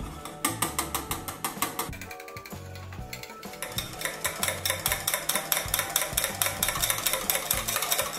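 Cheesecake batter with egg beaten in a bowl for a sugar-free microwave cheesecake, a fast, steady run of clicking whisk strokes under background music.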